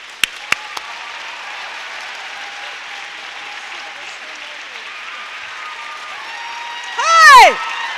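A university lecture audience applauds as a cartoonist is introduced, steady crowd clapping filling the hall throughout, with a brief louder swell near the end.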